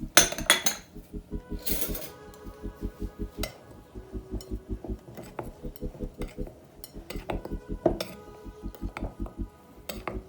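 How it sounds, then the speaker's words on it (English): Cocoa powder, salt and baking soda stirred together in a bowl, a utensil clinking steadily and rhythmically against the sides in quick repeated strokes, moderately loud and close, with brief louder knocks, no talking. "You want to combine your cocoa powder, salt and baking soda together, and then you give it a mix."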